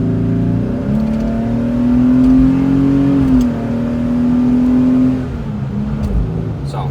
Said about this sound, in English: with the new exhaust, as you can tell, it's a little bit louder when you're opening her up on the highway here